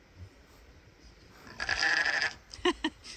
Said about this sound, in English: The sheep answered for you.